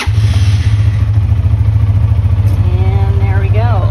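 A Massimo Buck 450X golf-style UTV with an EFI system idles loudly and steadily after starting, a low throbbing engine note running throughout, with a brief higher whine near the end.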